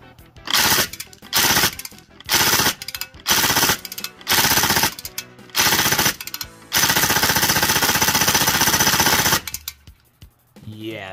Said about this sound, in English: let's see how this thing lets it rip